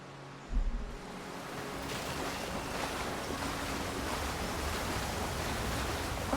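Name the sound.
waterfall in the video game Avowed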